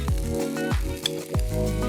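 Barramundi fillets sizzle in a pan of olive oil with chives, a steady moderate frying hiss broken by a few sharp scraping strokes.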